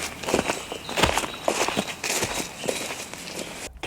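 Footsteps recorded in stereo move from the left side to the right, a steady series of distinct close steps at walking pace, fairly loud and alone.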